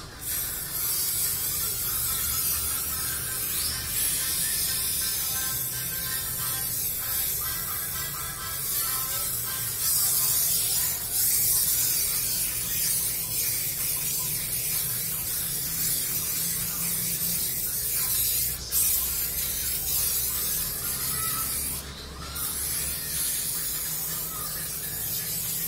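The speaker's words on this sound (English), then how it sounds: "we need to spray it with the, I'm going to use the cooking spray" A long, steady hiss of cooking spray being sprayed close by onto a tray, continuous with slight variations in intensity, otherwise quiet.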